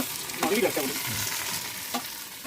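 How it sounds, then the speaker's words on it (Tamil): Tomatoes drop into a hot frying pan of cooking chicken, setting off a loud sizzle with a few stirring scrapes and clatters over a steady frying hiss. "அடுத்து இப்போ தக்காளி போடுறாருங்க"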